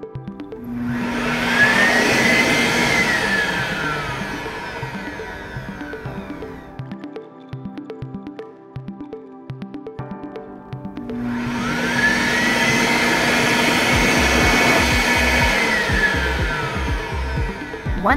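An Excel Dryer hand dryer runs in two loud whooshing bursts, each rising to a steady roar and then cutting off, with a quieter mechanical hum between them.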